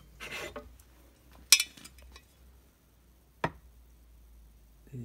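A teaspoon measuring water for puffy paint clinks faintly against a container, a few sparse light taps and scrapes in a quiet room, with two sharper clicks standing out.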